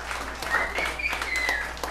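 Comedy club audience breaking into applause, a dense spread of close claps and cheers running throughout, with a voice briefly calling out over the crowd.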